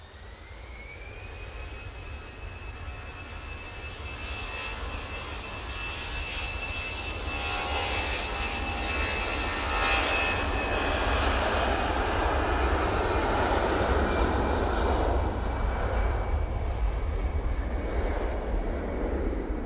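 An Air France jet departing Manchester Airport, its engine roar swelling steadily into a loud, sustained broadband rumble with a rising whine, heard alone with no talk.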